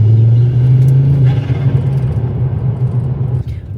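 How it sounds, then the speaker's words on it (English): Turbocharged engine of a rebuilt salvage car running close by, a deep, loud rumble that slowly eases off and dips near the end. "Everybody loves turbo noises"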